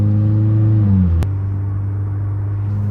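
A lowered Mazda3 on air suspension cruising a rough road in Orlando, its engine a steady loud droning hum inside the cabin, with one sharp jolt from a bump midway and the pitch dropping slightly before it.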